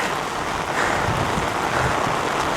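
Rain on a Himalayan trekking trail on the way to Everest, a continuous close hiss of falling drops that swells slightly partway through, with no voices.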